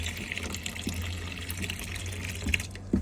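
Water runs steadily from a tap inside a Bailey Advance 640 caravan, a continuous close rushing flow with a low pump hum underneath, ending in a couple of small knocks.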